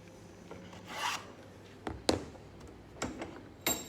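A hand plane shaving the edge of a wooden plastering float, heard as a few separate rasping strokes spaced out over a few seconds. The strokes are close and fairly quiet, with no talking.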